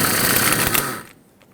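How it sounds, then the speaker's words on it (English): A 15mm socket wrench backs a banjo bolt out of the brake caliper on a 2011-2016 Ford F-350, a loud close burst of buzzing mechanical noise that cuts off after about a second. "Use a 15mm socket and remove the banjo bolt off of the caliper."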